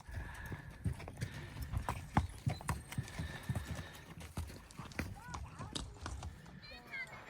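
Horse hooves clip-clop in a quick, uneven rhythm close by, mixed with shuffling and movement noise, with faint talking in the background.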